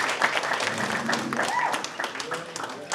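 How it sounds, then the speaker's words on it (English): Audience applause at a 2023 Christmas pageant fills the whole stretch, a steady, moderately loud wash of clapping with voices talking over it. "Let's give them a nice round of applause."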